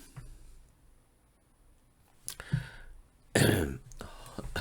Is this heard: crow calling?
no